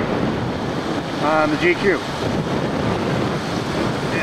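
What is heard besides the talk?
ocean waves at Pacific Beach, Washington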